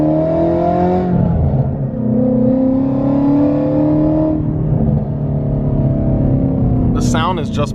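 A supercharged Ford Mustang GT350 engine drones and revs loudly up close on the street, pitch shifting as it accelerates, with a voice heard briefly over it.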